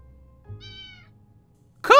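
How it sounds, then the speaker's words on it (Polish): A cat meows in the survival game 60 Seconds: Reatomized: one clear, fairly loud tonal meow near the start, then a sharp second cry at the very end, with quiet background otherwise. "Kot, chyba."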